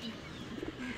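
A single pigeon from a Bangladeshi fancy pigeon line gives a brief, faint coo, heard alone in a quiet room.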